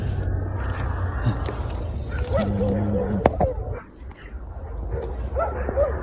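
Dogs bark, yip and whimper at a distance in a cemetery at night in Bursa, with several short sharp barks over a low rumbling background and some voices.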